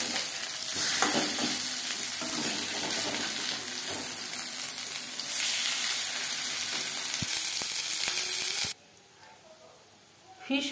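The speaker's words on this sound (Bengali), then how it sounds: "প্রত্যেক ব্যাচের ফিশ ফ্রাই একইভাবে ভেজে নেব।" Fish fry pieces frying in hot oil, a steady dense sizzle with occasional stirring clinks that runs for most of the time, then drops away abruptly near the end.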